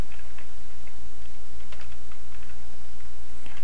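Keystrokes on a computer keyboard while writing JavaScript code, including a Ctrl+E shortcut, come as scattered light clicks in small bursts over a steady low hum, close and alone with no talk.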